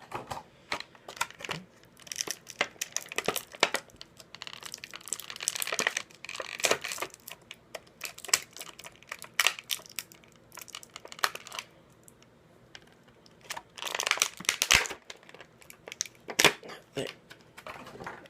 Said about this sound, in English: Okay, so now let's take this out of the package.